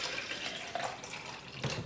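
About sixteen ounces of water pours steadily into a container for a workout shake in a home gym, a continuous close splashing flow with no talking.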